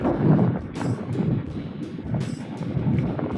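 Steady gusty cold wind buffets the microphone of a moving bicycle with a low roar, rising and falling without pause.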